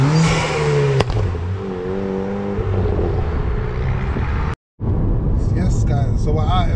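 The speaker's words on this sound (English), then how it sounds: "One thing I love on this is that induction kit. It really does sound crazy." A Ford Fiesta ST-200 tuned to 350 bhp with an ITG induction kit, its engine revving and whooshing from inside the car as it accelerates, with a brief cut near the end.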